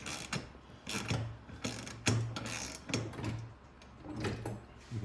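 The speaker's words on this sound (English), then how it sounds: "So just use your wrench." A ratchet wrench tightening a nut while installing a rear seat kit on an EZGO golf cart, a series of quiet clicking ratchet strokes in an uneven rhythm, close up.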